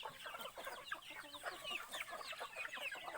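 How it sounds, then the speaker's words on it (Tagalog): Native chickens at a rural family home in the provinces cluck steadily and overlap one another, with scattered higher calls from the flock at close range. "Native po lahat na manok ito."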